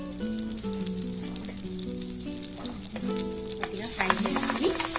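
Cumin and fennel seeds fry in hot oil for a chicken tikka masala, a steady close sizzle that runs the whole time and grows brighter and busier toward the end, with a sustained tonal hum beneath it and no talk.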